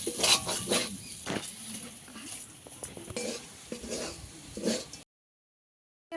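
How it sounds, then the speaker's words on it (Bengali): A spoon or spatula scrapes and stirs semolina with cashews around a pan in a repeated rhythm, soft sizzling and clinks of metal between strokes, close and fairly loud, with a short silence at the end. "সুজিটাকে অনবরত নেড়ে চেড়ে একটু ঝরঝরে করে নেব"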